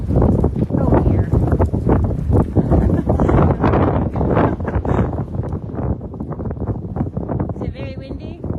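Strong wind roars and buffets the microphone outdoors around mustang horses, a loud continuous rush while people talk over it.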